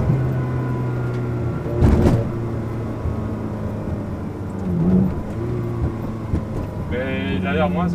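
A Ferrari 360 with a reprogrammed F1 gearbox idles with a steady, close engine hum. A sharp throttle blip rises near the end, and someone speaks over the engine.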